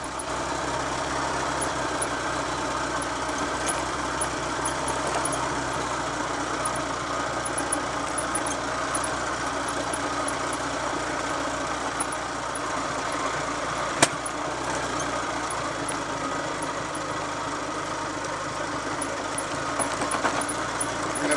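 A Triumph Trophy TR5 motorcycle rides along a Roman road in second gear, its engine a constant close drone with wind rush, steady throughout with no talking.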